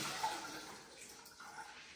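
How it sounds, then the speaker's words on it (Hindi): Soaked soya chunks being drained, with water pouring and splashing steadily for about two seconds, a continuous close wet rush with no talk. "सोया चंक को रख के कुछ देर हो गई है पानी में, तो मैं इसका पानी निकाल देता हूँ अभी"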